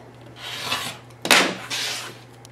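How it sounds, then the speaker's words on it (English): A blade trims quilting fabric along a ruler held against a cardboard template, giving soft scraping and rasping strokes with one sharper, louder cut in the middle, close and alone with no talk. "I'm going to just put my ruler right up to the edge of the cardboard and trim."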